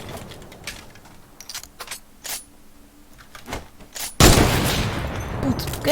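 Gunfire in Fortnite: scattered sharp shots and clicks, then a loud sustained burst of fire near the end. The sound is dense game noise with no speech over it.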